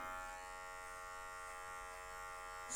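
An electric hair clipper with a zero guard hums steadily on afro hair. A close, faint, even buzz holds throughout with no talking, and it rises slightly at the very end.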